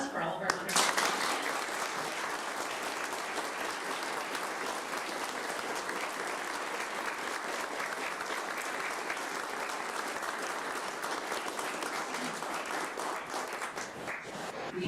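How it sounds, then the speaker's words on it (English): Sustained round of applause from a school board awards audience for recipients of awards of excellence, steady dense clapping throughout, moderately distant, with faint voices underneath. "do one last round of applause for all of our wonderful"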